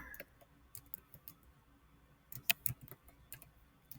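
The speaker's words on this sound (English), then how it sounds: "you can type up here if you have one like mine and put in character map" Light, sparse keystrokes on a computer keyboard, soft irregular taps with a short quick burst of clicks near the middle, close and quiet.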